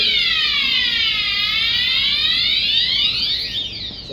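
A fire alarm panel triggered by a sprinkler flow switch sounds a loud electronic sweeping tone that repeatedly glides down in pitch, continuous and alone, fading slightly near the end.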